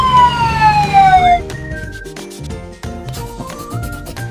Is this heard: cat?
no